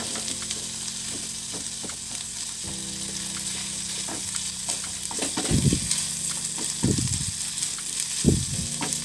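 Meat frying in a pan for a pok choy and beef dish, a steady sizzle with intermittent scraping stirs and clinks of the utensil against the pan, close and without speech.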